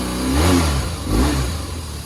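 A BMW R1150GS motorcycle engine, running on both cylinders, is blipped twice in quick succession, each rev rising and falling in a loud, close, throaty pulse.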